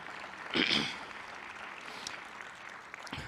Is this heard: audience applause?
yes